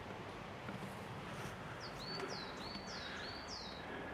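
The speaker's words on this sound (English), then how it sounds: "It's nice to hear the birds" Birds singing outside near an old estate, a faint series of about six quick high chirps repeating at a steady pace over quiet outdoor hiss.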